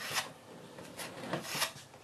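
Drywall mud spread with a knife over a row of drywall screws, giving soft repeated scraping and rasping strokes, close and fairly quiet, with no talk.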